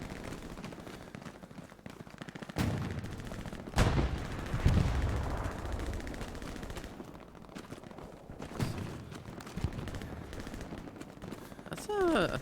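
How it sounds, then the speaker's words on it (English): Bursts of an American machine gun and other gunfire in the World War II shooter Hell Let Loose, sharp cracks and rattling volleys at varying distances, some faint and some close, with a voice talking over parts of it. "I think that's the American MG. Yep. It's too high pitched."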